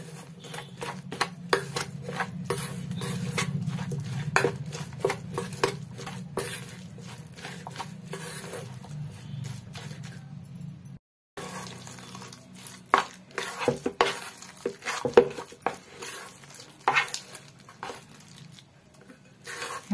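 Egg pakoda batter being mixed in a bowl: steady soft clicking and tapping strokes of a utensil, close and fairly quiet, with a brief pause midway before the stirring resumes.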